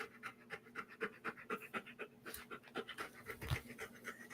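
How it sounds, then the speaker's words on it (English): A dog pants quickly and rhythmically close by, a soft, even run of short breaths with one brief louder thump partway through. "It's him who's panting."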